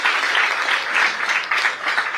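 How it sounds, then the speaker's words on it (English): An audience breaks into dense, loud applause that holds steady from start to finish, with many hands clapping together. "he deserves a loud applaud for what he has done for this MSME"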